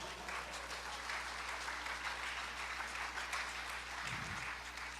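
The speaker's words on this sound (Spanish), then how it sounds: "Dale un aplauso al Señor." A church congregation applauds, a dense and distant wash of clapping that holds steady over a low background hum.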